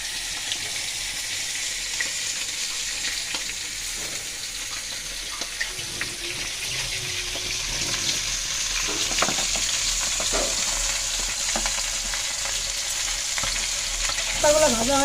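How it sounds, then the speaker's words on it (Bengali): Leaves fry in hot oil in a wok for a pangas fish dish, giving a continuous close sizzle with soft stirring scrapes and clinks. A short louder sputter comes near the end, and no one speaks. "পাতাগুলো ভাজা হয়ে গেছে"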